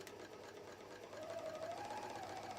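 A serger sewing a flatlock stitch runs at a steady, fast hum, quiet and close, with a faint whine rising partway through.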